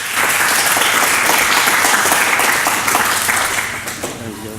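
A loud audience claps and cheers to welcome a speaker onto the stage at a creator workshop, a thick, continuous burst of applause that stays strong before gradually thinning out toward the end.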